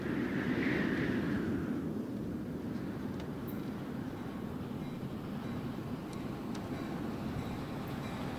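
A train in the video game World of Goo 2 rolls steadily along its rails, a continuous low rumble with faint high clicks and squeaks, fairly quiet with no talking.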